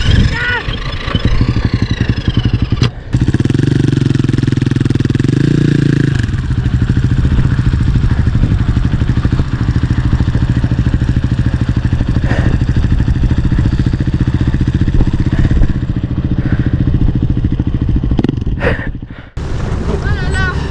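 Motorcycle on a Dakar desert track in Morocco, its engine droning loudly and continuously with a deep rising burst of throttle early on, wind buffeting the microphone throughout and a voice speaking briefly.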